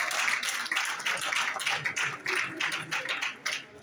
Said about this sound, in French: On va applaudir pour lui encore.